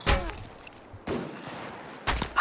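Gunfire in Apex Legends played on an iPhone 12, three loud bursts of shots at roughly one-second intervals, each a sharp crack trailing into a short rattling tail.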